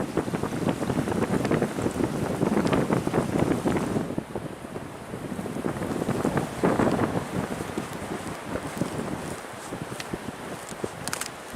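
Cold winter wind at Pictured Rocks, Michigan, in January, blowing hard and steadily across the microphone near icy lakeside cliffs with a constant rough buffeting roar that eases slightly partway through.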